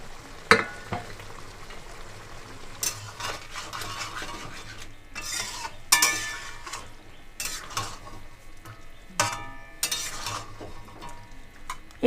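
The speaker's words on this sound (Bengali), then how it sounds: "জলটা এখানে টকবক করে ফুটে উঠেছে এই পর্যায়ে আমি ভেজে রাখা মাছগুলো দিয়ে দেবো" Fried tengra fish pieces dropped into boiling gravy in a pot, giving a run of clattering splashes and stirring scrapes over a low bubbling simmer, fairly close and moderately loud.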